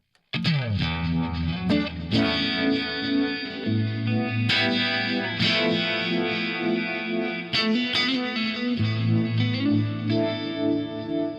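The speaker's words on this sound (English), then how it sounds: "I use the fast vibe. It is amazing to create the typical univibe sound." Electric guitar chords through a fast univibe effect from a Fractal Audio FM9 or Axe-FX III preset, with swirling, pulsing modulation, played alone with sustained, warbling tones.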